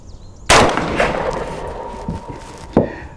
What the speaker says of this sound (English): So I'm gonna put the bullseye right on top of my front sight, and we're shooting at the upper target.